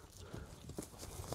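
A racehorse's hooves make a few soft, quick clip-clop beats, faint and brief.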